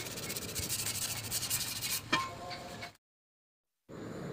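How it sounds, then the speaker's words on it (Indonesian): Rapid scratchy rubbing of sandpaper against the inside of a Honda PCX front wheel rim, steady for a few seconds, then a clink, a brief silence, and the rasping resumes. "Kita bersihkan untuk dalaman velgnya ya dengan amplas seperti ini."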